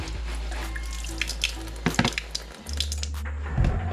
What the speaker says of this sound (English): I'm just gonna give them a quick rinse again.